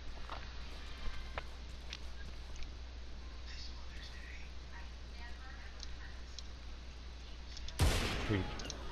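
A single sharp burst of gunfire in a shooter video game rings out near the end, loud against a long, quiet stretch of low steady hum and faint background noise.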